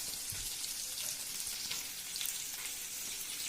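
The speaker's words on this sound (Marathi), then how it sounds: "आता बघा, छानपैकी लसूण फ्राय झाला आहे." Garlic fries in oil for a Konkani fish curry, giving a steady, soft broadband sizzle that holds evenly from start to finish with no voices over it.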